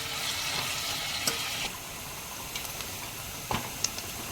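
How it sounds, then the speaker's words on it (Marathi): Finely chopped onion sautéing in oil in a pan, a soft continuous sizzle with a few light scrapes of a spatula, fairly quiet and close. "एक बारीक चिरलेला कांदा टाकणार आहोत. व्यवस्थित परतून घेऊया आपण."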